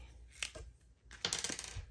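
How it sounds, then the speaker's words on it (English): Dice roll and clatter on a hard surface beside a sticky note, making two quick bursts of small bright clicks and tumbling knocks that are close and quiet, with no speech. "now we're going to roll the dice and see what we're going to be stuffing next time"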